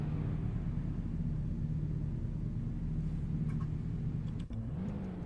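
BMW E30 and E92 cars in a racing video game, heard as a faint, steady mid-pitched engine drone with a brief dip and rising rev near the end.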